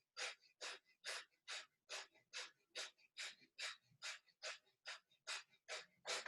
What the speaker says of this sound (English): we're gonna practice breath of fire